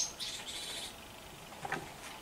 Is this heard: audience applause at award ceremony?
no